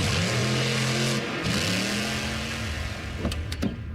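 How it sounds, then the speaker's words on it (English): A monster truck engine rumbles and revs up loudly nearby, its pitch rising and falling, then a few sharp clanks near the end. "You can even stream it at a monster truck rally."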